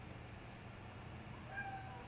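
A cat meows faintly outdoors in a short, soft call over a low background hum.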